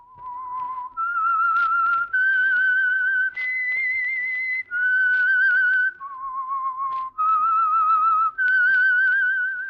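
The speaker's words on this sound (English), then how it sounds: "That whistle is your signal for the Signal Oil Program, The Whistler." Whistled theme signal of the radio program The Whistler, a solo melodic whistle of sustained tones that shifts pitch from note to note across several phrases, loud and clear with no talk.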